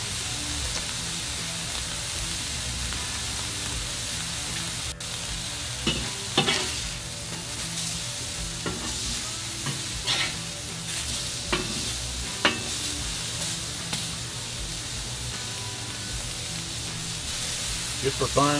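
USDA Prime sirloin burgers sizzle on a Ballistic griddle over lump charcoal, a constant loud frying hiss with occasional scrapes and taps, as someone talks over it.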